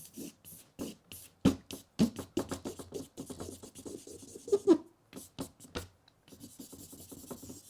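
Charcoal sketched onto paper in an art class, close rhythmic scratchy strokes of varying length and pressure, some quick and sharp, others longer rubs, with brief pauses between marks and no talking.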